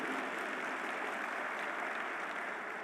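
A church congregation applauds during a worship service, a continuous, even wash of many hands clapping together at a moderate, slightly distant level.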